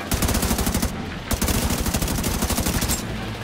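A deployed turret in The Division 2 fires in rapid automatic bursts, loud and close, with a brief pause between strings of shots.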